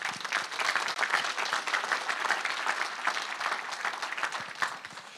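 An audience at a regional chamber's 2025 economic forecast event gives a sustained round of applause, with thick, even clapping continuing for about five seconds.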